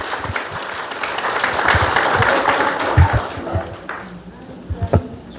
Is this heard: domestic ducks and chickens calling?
no